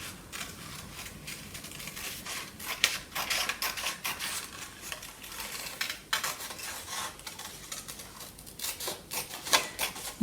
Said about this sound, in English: So I'll cut through.